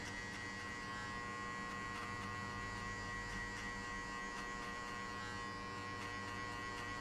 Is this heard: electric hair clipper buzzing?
yes